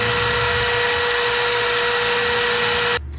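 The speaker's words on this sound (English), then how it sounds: "and I'm gonna drill them out to" A power drill whines loudly and steadily for about three seconds, drilling out holes to 25/64 inch on a 2014 Ram 6.7 Cummins, then stops abruptly.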